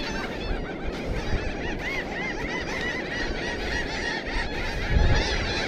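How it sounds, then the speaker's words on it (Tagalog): Geese honking repeatedly in a loose, overlapping flock chorus over a low-tide shoreline, moderately near and fairly loud, with no talking. "Daming ibon."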